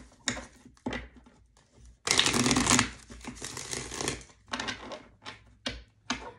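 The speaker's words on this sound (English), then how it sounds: "Let me shuffle some more" Close-up riffle shuffling of tarot cards: quick papery flutters and snaps in short bursts, with one long burst in the middle.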